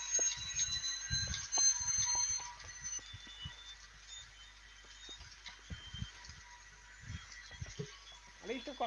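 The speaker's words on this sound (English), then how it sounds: "At least I've got trains running." A model railway locomotive pulls a carriage along a home layout track, giving a quiet, uneven run of clicks and rattles with a faint whine. Muffled voices sound in the background.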